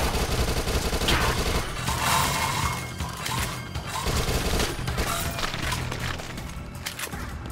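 Rapid submachine gun fire in the zombie shooter video game Dead Nation, a dense, continuous rattle of shots, loud and close, mixed with crashing impacts throughout.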